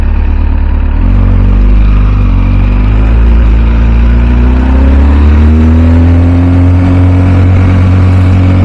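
An MV Agusta F4 Tamburini motorcycle engine on a ride, a loud sustained drone that climbs steadily in pitch as it accelerates, heard close with strong wind rush throughout.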